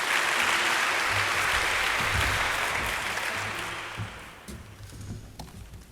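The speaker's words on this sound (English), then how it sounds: "Please give a big round of applause for Professor Pamela Dube." An audience at a university media society launch applauds Professor Pamela Dube as she comes to speak, giving a sustained round of clapping that tapers off toward the end as a few murmurs come through.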